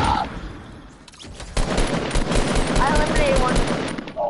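Rapid automatic gunfire from a zombie shooter video game, bursts of shots that pause briefly, then return in a long sustained volley, with players talking over the shooting.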